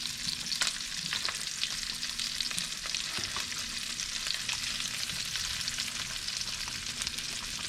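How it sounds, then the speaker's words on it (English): Leftovers sizzle and crackle steadily in a frying pan, a dense, continuous hiss with scattered pops throughout, close and fairly loud with no talking. "You put that one in there just to see if you get that sizzle"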